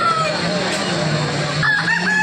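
Roosters crow repeatedly over a busy background of clucking and murmuring voices at a weekly chicken market in G. Mamidada, fairly close and loud.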